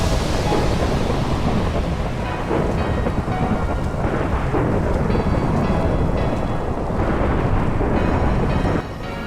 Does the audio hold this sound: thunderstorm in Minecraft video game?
yes